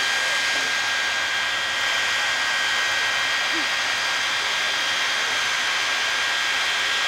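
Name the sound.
jet truck engine firing at drag race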